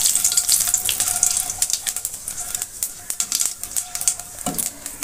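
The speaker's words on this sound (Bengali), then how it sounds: "এবার আমি গোটা জিরা দিয়ে দেব, জিরাটা দিয়ে একটু নাড়াচাড়া করে নেব" Whole cumin seeds sizzling in hot oil for dim dal, a steady bright crackle and spit with scattered sharp pops, close and fairly loud throughout, with no voice.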